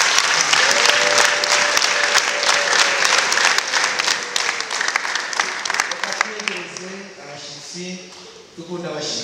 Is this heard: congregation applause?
yes